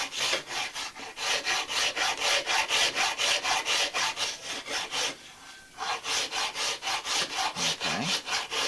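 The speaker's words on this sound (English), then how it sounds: "this is just being done with the rasp and then with sandpaper" Steady rhythmic back-and-forth rasping as a rasp and sandpaper round off a wooden Navajo spindle shaft, close and scratchy, with one brief pause midway before the strokes resume.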